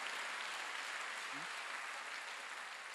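A church congregation applauds during a Wednesday worship service, a dense steady wash of clapping that fills the whole moment with an even level and no pauses.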